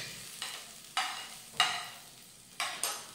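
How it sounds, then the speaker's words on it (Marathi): Chopped tomatoes cook with already-fried onions in a pan for matar paneer, heard as a quiet background hiss broken by about six brief spatula scrapes and stirs, each fading quickly. "कांद्याबरोबर हा टोमॅटो साधारण 4 ते 5 मिनिटं व्यवस्थित भाजून घेऊयात"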